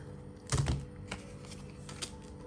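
Tarot cards are pulled and handled up close: a few soft taps, slaps and shuffling clicks spaced irregularly, with one louder card slap near the start, and no talking.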